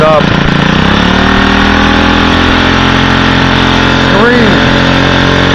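Engine fitted with a Pantone GEET fuel processor system running steadily at close range, with a rising rev near the end; a voice is briefly heard.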